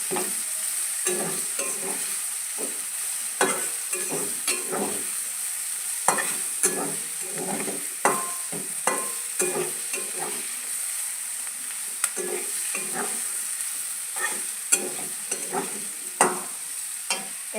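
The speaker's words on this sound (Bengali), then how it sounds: "এখন এর মধ্যে আগে থেকে কেটে রাখা পেঁয়াজ আর কাঁচামরিচ কুচিটা দিয়ে দেবো।" Fried meat sizzles in a pan with freshly added chopped onion and green chilies for a vegetable roll filling, a steady hiss broken by frequent spatula scrapes and stirring knocks, close by and with no talk.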